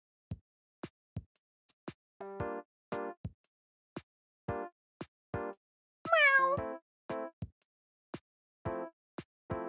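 A person imitates a cat, voicing a string of short meows and a few longer drawn-out ones, close and fairly quiet, with clicks between.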